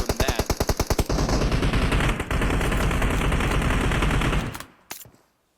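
Gunfire in PUBG Mobile, a competitive battle royale match: a loud rapid burst of about ten evenly spaced shots, then a sustained dense roar of automatic fire and explosions lasting several seconds before cutting off, with one final faint shot.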